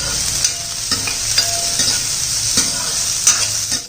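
Beans and carrot being sautéed and stirred in a pan, a steady close sizzle with a few sharp scrapes and clinks of the spoon at irregular intervals, no voices.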